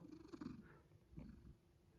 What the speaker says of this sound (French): t'es tellement dans le plaisir que tu ronronnes pour te dire que tu y prends du plaisir